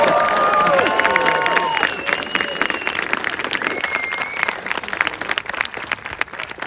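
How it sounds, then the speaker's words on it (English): An audience at a 70mm IMAX film screening applauds and cheers, a dense wash of clapping that starts loud and slowly thins out, with voices mixed in. "give a round of applause for them"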